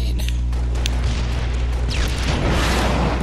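A grenade explosion in the video game Halo Reach during a 4v4 MLG match: one loud, dense boom that fills the clip and rumbles on steadily, with no voices over it.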